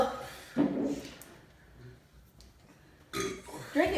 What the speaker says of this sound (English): that's why it's gonna make you burp real good